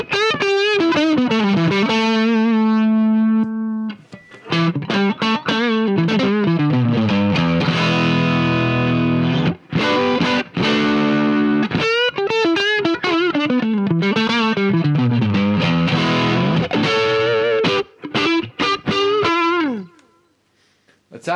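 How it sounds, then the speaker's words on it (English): A distorted electric guitar through an overdrive pedal into a Vox AV30 amp plays sustained chords and melodic runs with thick overdrive, loud and continuous, fading out at the end. "Let's see what it thinks of an overdrive pedal."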